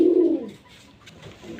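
A pair of silver-necked bloodline pigeons is kept for sale in Narayanganj, Bangladesh. One gives a single soft, low coo up close, then a quieter murmur follows.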